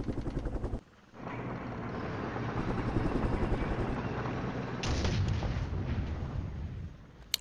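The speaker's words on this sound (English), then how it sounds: "Alright, incoming artillery." Incoming artillery in the Flashpoint Campaigns wargame: a brief rhythmic thudding cuts off, then a loud rumbling barrage of blasts swells and rolls on, with a fresh burst midway and a sharp crack at the end.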